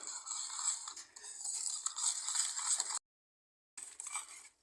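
A utensil scrapes and clicks rhythmically against a bowl while milk, sugar and egg are mixed for semolina pitha batter. The sound is steady and close, stops briefly, then resumes.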